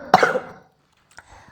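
A single harsh, congested cough up close from a sick person, followed after a short pause by a softer throat-clearing rasp.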